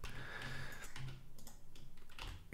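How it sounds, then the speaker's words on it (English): Rapid keystrokes on a computer keyboard while working in Blender, a steady run of close, light clicks and taps with no speech. "I'm going to click B on my keyboard,"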